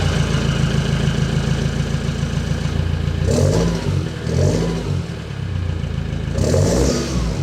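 A Land Rover with a 2.4 Puma diesel engine and aftermarket exhaust runs close by, a steady low idle broken by three short revving bursts, with a single spoken word.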